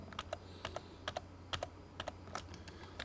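Computer keyboard typing while drafting in AutoCAD: a quiet sequence of about a dozen separate key clicks at an uneven pace, close by with no talking.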